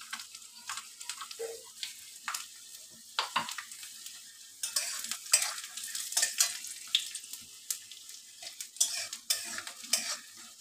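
Cashews frying in oil in a pan with stirring, soft intermittent sizzles and scraping strokes of a spoon, fairly quiet and close, with no voices.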